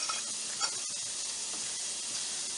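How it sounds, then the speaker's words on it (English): Onions sauteing in a pan, a steady soft sizzle and hiss running throughout at low level, with a few faint clicks and utensil touches and no one speaking. "While the onions are sauteing there"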